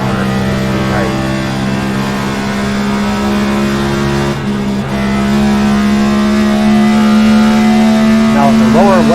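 A race car pulls through a tight corner wide open, a loud steady engine drone holding high revs close by, with a short dip midway and rising revs near the end; a driver talks over it.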